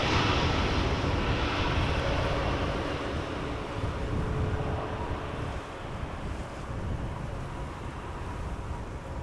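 EasyJet Airbus A319 arriving at Amsterdam Schiphol airport, a continuous engine roar that is strongest at first and eases slightly, mixed with wind buffeting the microphone, no talk.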